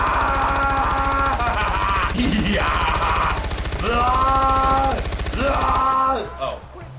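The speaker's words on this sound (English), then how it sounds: "One more, and then I'll go on the machine guns" Machine gun fire from the Far Cry 4 video game on a custom map, a loud continuous stream of rapid shots that holds steady for about six seconds, overlaid with tonal engine-like drones, before cutting off abruptly.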